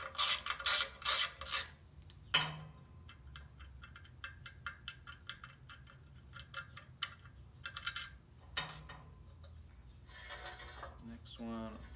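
A ratchet loosening car clutch bolts in a star pattern: bursts of rapid clicking pawl ratcheting, separated by brief pauses and clunks, close and fairly quiet, with short gaps between each bolt.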